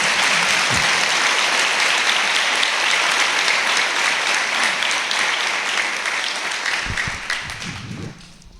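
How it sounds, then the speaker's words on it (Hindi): Congregation applauding during a Hindi church sermon, sustained loud clapping from many hands filling the room, tapering slightly toward the end. "यीशु के लिए ताली बजाएं।"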